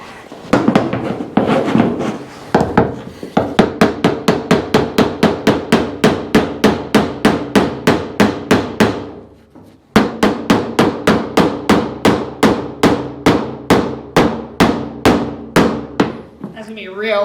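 Hammer blows strike the dented body of a rare 1955 Chevy Nomad during a failed paintless dent repair, about thirty sharp, loud metallic hits in a steady rhythm with one short pause midway.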